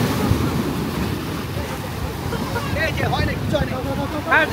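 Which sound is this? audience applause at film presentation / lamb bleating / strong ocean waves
strong ocean waves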